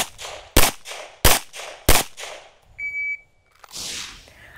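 Three sharp, evenly spaced gunshots from an M&P M2.0 Core handgun during a practical short course run, loud and close, followed by a brief electronic beep and rustling.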